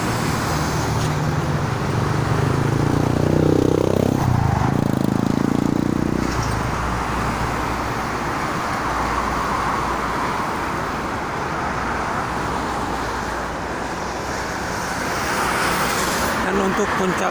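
Steady traffic on the Jakarta–Cikampek toll road at dusk, heavy with trucks and buses, a continuous broad roar of passing vehicles with a louder engine surge early on, heard from nearby.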